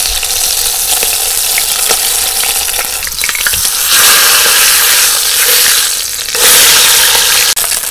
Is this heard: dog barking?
no